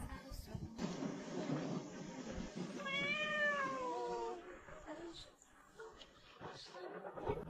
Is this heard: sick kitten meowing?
yes